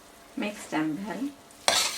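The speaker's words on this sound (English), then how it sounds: "I'm using 3 cups of cooked rice and mixing them with the vegetables." Three cups of cooked rice are stirred into vegetables and masala in a pan, making a few loud close scraping strokes with a squeaky, tonal drag and a final gritty push.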